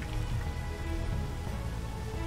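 Rain falling in the Space Engineers video game, a steady, soft patter with a low rumbling bed, continuous and without speech.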